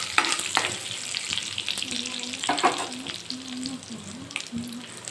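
Cumin, mustard seeds and curry leaves crackle and sizzle loudly in hot oil, close up, with sharp popping bursts and stirring scrapes, while a faint tonal hum runs underneath.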